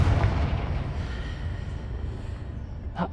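A Confringo fire spell goes off in Hogwarts Legacy, a deep booming blast that rumbles on for a few seconds, followed by a brief sharper crack near the end.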